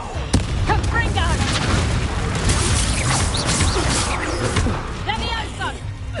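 Confringo blast spells and combat in Hogwarts Legacy, a dense run of booming, crackling explosive bursts and impacts under voices shouting in the middle of a fight.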